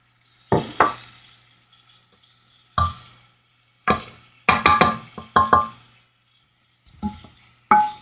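Onion added to a hot pot and stirred for cooking beans with coconut, giving sharp scraping and clanking spoon strokes in uneven bursts over a faint background sizzle, close and fairly loud.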